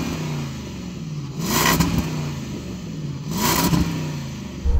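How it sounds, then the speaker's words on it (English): A new Land Rover Defender V8 engine revs twice, each blip swelling sharply over a steady idle rumble, recorded close and loud. "let's have a listen to that rev up."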